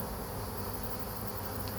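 Honeybees at an open, healthy beehive drone in a dense, steady buzz, close and continuous throughout the short stretch with no voices.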